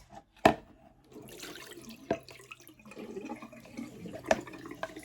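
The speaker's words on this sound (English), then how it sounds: "that is me pouring the water away" Water is poured away into a sink in short splashes and drips, with a sharp splash at the start and a trickle running on between them.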